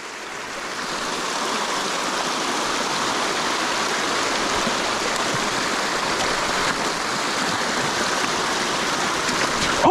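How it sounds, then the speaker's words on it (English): Steady rain falls beside a stream and a large beaver dam, a dense, continuous hiss of drops and running water that holds at an even, fairly loud level throughout with no voices. "It's not raining too bad."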